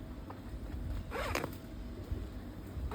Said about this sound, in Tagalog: Meron siyang zipper dito sa both side kapag gusto niyo po siyang ihiga or semi-reclined.